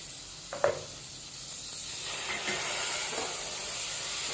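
Onions and tomatoes sautéing, then simmering on low heat in a covered pan: a soft, steady steamy hiss up close, with a brief clink near the start and faint stirring knocks.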